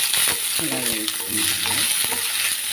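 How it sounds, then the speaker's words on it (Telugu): Six green chillies, cumin seeds and urad dal frying in a pan for chutney, a bright continuous crackling sizzle with quick popping and spatula scrapes close by. "ఒక ఆరు పచ్చిమిర్చి దీనిలో వేసాను కొంచెం జీలకర్ర వేసాను మినపగుండు వేసాను"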